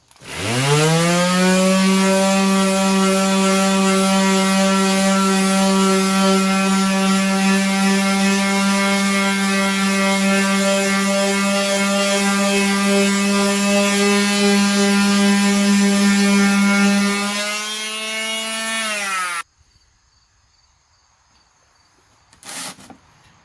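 Sanding an uneven ATV fender with 80 grit sandpaper, with a loud, steady motor whine running continuously, dipping slightly near the end before cutting off into near silence.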